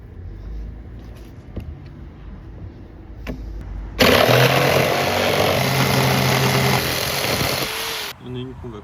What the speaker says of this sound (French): Et derrière je retrace pour découper ensuite à la scie sauteuse ou à la scie.